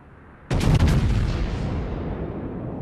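A single heavy naval gunshot boom from the video game World of Warships cracks out suddenly, followed by a second quick blast and a long rumbling decay.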